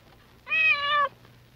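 A single clear cat meow, close and fairly loud, lasting about half a second against a quiet background.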